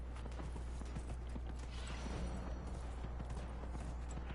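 Horse hooves clip-clopping in the video game Dragon Age: Inquisition, a steady run of soft hoof beats over a constant low hum and ambient game background.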